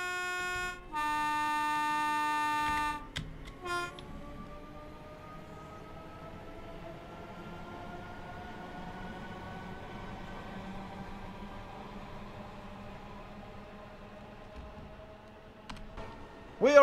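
A Scotland express train in Train Sim World heading from Falkirk Tunnel toward Haymarket: a horn blast opens, then a steady rumbling run with a rising electric motor whine, moderately loud and continuous.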